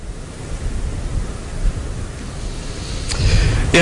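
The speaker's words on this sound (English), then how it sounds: "Strong winds, a growing surf, and soaking rains." Steady roaring wind and crashing surf from Storm Gordon wash over the coast, a continuous broadband rush that swells louder near the end with a few sharp gusting bursts.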